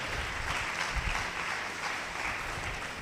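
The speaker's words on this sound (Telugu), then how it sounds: "చప్పట్లు కొట్టండి గట్టిగా" A church congregation claps loudly and continuously in dense, even applause that holds steady throughout, with no voices standing out.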